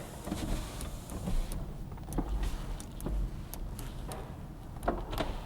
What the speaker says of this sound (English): Oh, the windows work.